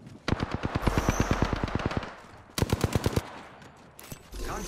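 Automatic gunfire in a video game striking the player: a long rapid burst of sharp shots, a short pause, then a second quicker burst, loud and close, followed by a few scattered impacts.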